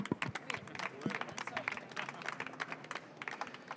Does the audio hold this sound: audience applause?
yes